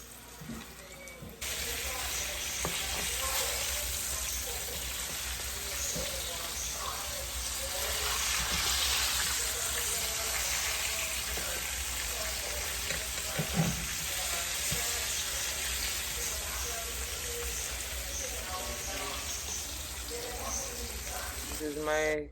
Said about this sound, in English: I'm gonna go ahead now and just finish frying the rest.